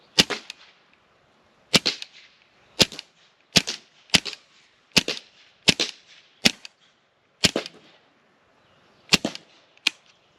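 Hatsan Velox semi-automatic .25 calibre air rifle firing at a water bottle, with about twelve sharp, close cracks spaced irregularly a second or so apart, each with a short ringing tail and near-silence between shots.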